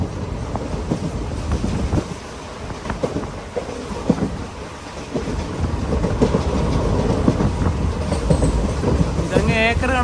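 Guruvayur to Thrissur Express running at speed through Kerala countryside, a steady rumbling roar with rail clatter and brief squeals, continuous and fairly loud throughout.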